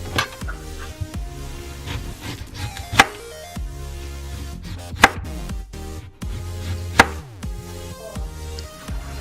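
Cucumbers and sweet potatoes are sliced thin with a knife on a cutting board at home, giving a steady run of close crisp cuts with a few louder sharp knocks.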